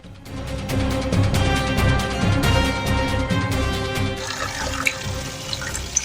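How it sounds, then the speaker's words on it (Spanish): Water trickles steadily at the southernmost source of the White Nile in Burundi, a continuous close splashing flow that carries on alone without voices. "Este chorrito de agua que escucháis al fondo es el nacimiento del Nilo Blanco, en concreto su fuente más meridional, en Burundi."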